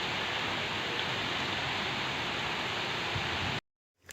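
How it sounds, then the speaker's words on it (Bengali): A heavy downpour during Cyclone Remal: dense, steady roaring rain that stays loud and even throughout, then cuts off abruptly near the end. "এবছরের সব থেকে শ্রেষ্ঠ বৃষ্টি আজকে হচ্ছে।"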